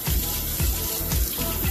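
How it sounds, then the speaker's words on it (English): Tap water runs into a sink while utensils are rinsed, a continuous close splashing stream with faint rhythmic sloshing as items pass under the flow, no voices. "You want to clean the top of the utensil and the handle, and then you want to rinse."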